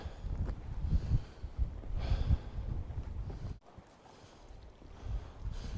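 Cold wind at Little Blue Lake, a mountain lake in the Indian Peaks Wilderness, buffets the microphone in close, uneven low rumbling gusts that ease off briefly partway through.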